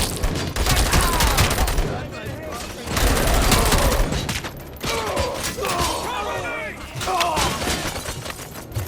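Gunfire bursts rattle through a RoboCop video game, with repeated rapid volleys and impacts in waves, loud and close, while voices call out over the shooting.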